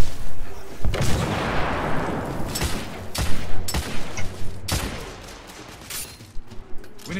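A grenade explodes amid gunfire in a street battle in the video game The Order: 1886, with a loud blast followed by irregular bursts of nearby shots and sharp cracks scattered through the scene.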